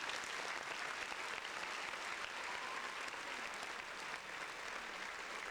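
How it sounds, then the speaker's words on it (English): A steady, even wash of applause from a small group, quiet and distant-sounding, continuing without a break or voices on top. "Round of applause for getting the episode correct."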